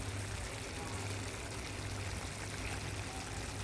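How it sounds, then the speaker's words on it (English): Water poured over marinated Jamaican curry chicken back in a pot, a steady, close splashing trickle that runs continuously at an even level with no talk. "So I'm gonna pour a little water on it and cover it"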